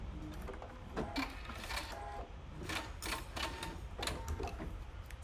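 A sewing machine backstitches at the end of a seam during a live sewing session, giving steady, close mechanical whirring and clattering in short rhythmic bursts with brief pauses.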